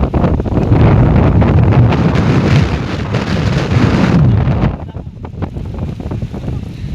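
Strong wind roars and buffets the microphone for several seconds at Malanggad hill, then eases to a lighter but still gusty rush.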